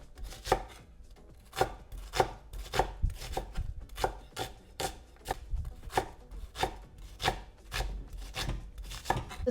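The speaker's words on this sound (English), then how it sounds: "So just going to finely chop 2 onions." Two onions are finely chopped with a knife on a board, with brisk, evenly spaced chops repeating close up and no voices.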